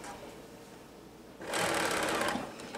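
A sewing machine stitching pant seams starts up after a quiet moment and runs steadily at speed for about a second, a fast mechanical whirring and rattling that then stops.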